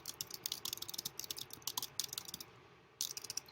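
Rapid, close keyboard typing on a computer keyboard: a steady stream of crisp clicks that pause briefly near the end, then resume for a few more keystrokes, with no voices.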